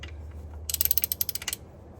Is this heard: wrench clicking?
yes